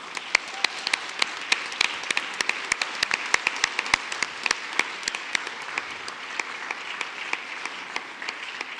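Sustained audience applause at an evening panel event, honoring book club members; dense steady clapping with sharp individual claps standing out throughout, fairly close and filling the room without talk.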